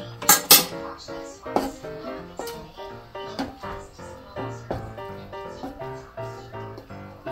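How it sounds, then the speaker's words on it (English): Spoon clinking and scraping against a metal pot while corned beef stew is stirred, a string of irregular sharp taps and scrapes, close and fairly quiet. "Mix up the corned beef"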